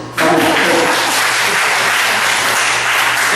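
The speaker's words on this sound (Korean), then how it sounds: "박수 다 치네." A church congregation at a Sunday morning service breaks into sustained applause, a dense, loud wash of many hands clapping that starts abruptly and carries on steadily.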